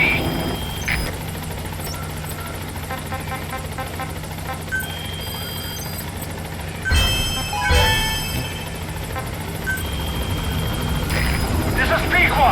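The B-Quad support helicopter from Metal Gear Solid V approaches in a steady, loud rotor drone with engine whine, mixed with game sound effects and a brief radio voice, the roar swelling near the end.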